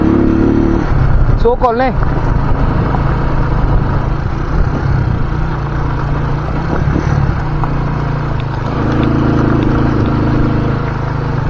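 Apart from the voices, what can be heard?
farm motorcycle engine running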